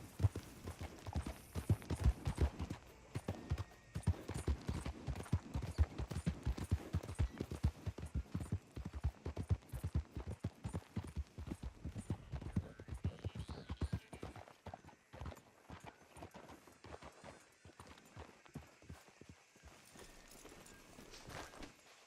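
Fast galloping horse hooves in the video game Red Dead Redemption pound in a steady rhythm, close and continuous, slowing and fading somewhat toward the end.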